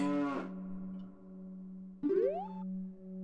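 A cow moos twice in The Legend of Zelda: Ocarina of Time, in the cow level: a long low bellow, a pause, then a second moo that rises in pitch, loud and close with no talk.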